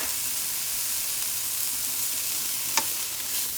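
Minced garlic sizzles in a hot pan with a steady, close frying hiss and one brief crackle near the end.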